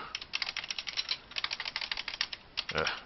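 Rapid keystrokes clatter on a computer keyboard during spreadsheet editing, a steady run of close, light clicks with brief pauses and a louder burst near the end.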